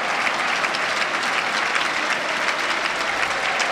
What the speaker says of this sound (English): Everybody to their feet to applaud what's been a super performance from Stephen Defoe